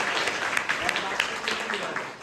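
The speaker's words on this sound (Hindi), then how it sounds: "एक बार ताली होनी चाहिए कि" A crowd applauds with a dense patter of hand claps, fairly close, continuing steadily for a couple of seconds.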